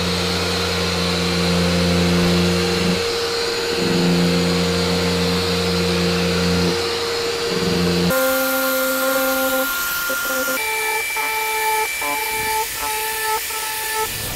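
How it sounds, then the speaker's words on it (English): A Delta detail sander works over a garage door being prepared for refinishing, pressed into the corners, with a loud, continuous motor drone that shifts pitch partway through as the tool moves. "when I'm doing this Delta sander, I'm trying to keep my pressure into the corner"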